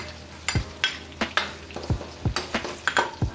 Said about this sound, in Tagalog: Ngayon naman, isasabay na natin igisa itong ating bawang.